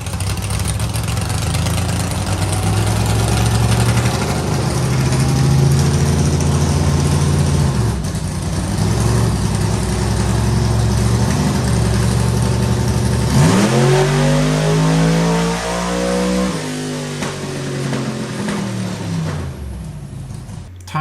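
A dragster engine roars loudly and continuously under load on a dyno, the pitch climbing through a long pull, dropping, then rising again before winding down.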